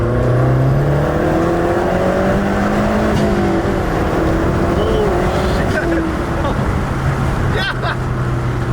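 A Mazdaspeed 3 hot hatch is pulled hard at wide-open throttle in second gear, heard from inside the car. Its loud engine drone climbs steadily in pitch, with some talk over it.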